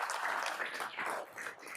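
Applause from an audience at a live mortgage-industry business event, a brief, moderately faint spatter of clapping that rises and thins over under two seconds.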